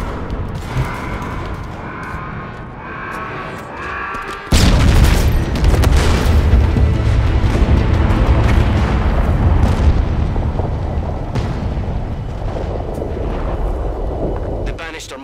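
An anti-aircraft gun blows up in the Halo Infinite video game: after a few quiet seconds of low rumble, a sudden loud boom bursts in and rolls on as dense, sustained explosive roar and crackling debris that slowly fades.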